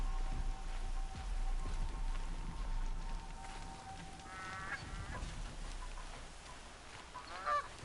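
Domesticated geese honk in short, nasal bursts in a Horizon Zero Dawn game world at night near Meridian, moderately distant calls over a steady hiss like falling rain.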